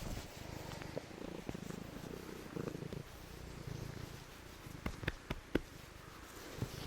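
A grown cat purring steadily and close, a soft continuous rumble with a few faint clicks and small bumps near the end, no talking.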